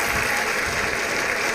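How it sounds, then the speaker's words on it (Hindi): Audience applause in a studio, a dense steady burst of clapping from many hands, loud and unbroken throughout. "तो एक बार फिर गुप्ता जी के लिए सबसे ज़्यादा ताली बजाएं।"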